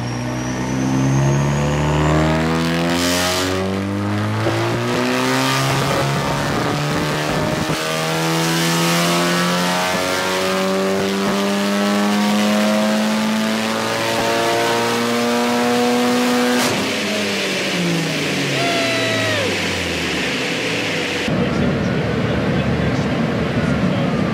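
A forged Audi S3 8V engine revving hard and loud, with repeated rising and falling pulls and a harsh exhaust rasp, ending in a sudden cut to quieter rumble, with a voice briefly audible.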